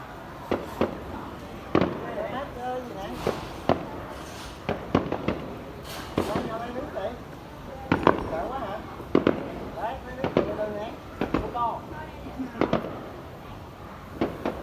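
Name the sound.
fireworks display bursting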